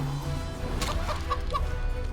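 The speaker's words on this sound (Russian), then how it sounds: "я же могу просто его курицей сделать" A chicken clucks in the video game Divinity: Original Sin 2 after a character is turned into one by a polymorph spell, giving a few short clucks over steady game ambience.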